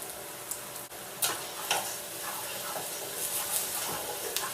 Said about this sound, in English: Give it a good stir so it releases its flavours